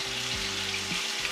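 Bagda shrimp frying in hot oil, moisture from the shrimp hissing and popping in a steady close sizzle, with low tonal hum running underneath.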